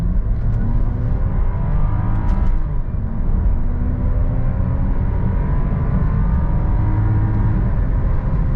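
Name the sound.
SUV engine accelerating hard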